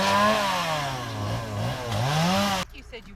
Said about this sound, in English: hitting the heavy stuff with the chainsaw that grew over